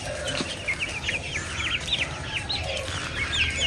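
Small Serama chickens of mixed colours cluck and chirp in a steady scatter of short calls, close by and moderately loud, over a constant low background hum with no talking.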